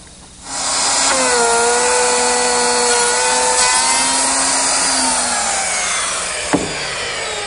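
A power tool cuts a groove into the underside of a secretary desk top, the groove meant to take a pine backer. The whine starts abruptly, holds steady and loud for several seconds, then eases slightly, with no talking.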